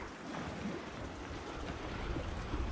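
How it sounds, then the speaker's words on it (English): Running water at a campsite, a steady broadband rush that stays constant and fairly loud throughout, with low rumbling and a wind-like hiss and no voices. "Oh my gosh, there's water running right here."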